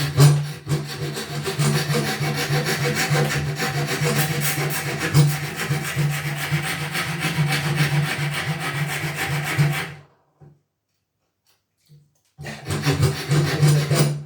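A file rasps steadily along the wooden edge of a guitar neck during shaping, a loud, continuous scraping stroke close up that stops for about two seconds before resuming.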